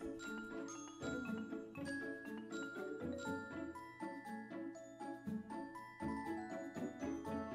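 Bell-like chimes ring out in the fantasy action RPG Secrets of Grindea, a steady run of bright tinkling tones over layered game music, fairly loud and continuous with no talk.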